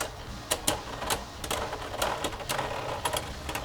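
Sharp, rapid plastic clacks and rattles from Beyblade Burst QuadStrike tops clashing in a custom stadium, close and lively, with hits arriving in quick irregular bursts over a constant spinning whir.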